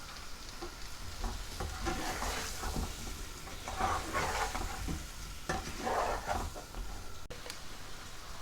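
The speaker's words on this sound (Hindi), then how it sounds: "लेमन को अच्छी तरह से मिक्स कर लेते हैं। मिक्स करने के साथ ही हम इसमें हल्दी और नमक ये शामिल कर देते हैं" Lemon pickle with turmeric and salt is stirred in a bowl, giving a steady, soft, wet scraping and squelching with a few brighter clinks of the spoon, close and without talk.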